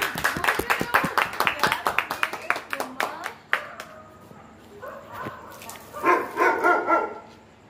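Rapid hand clapping up close, a quick run of sharp claps that thins out, followed by livelier sounds and speech in a home setting.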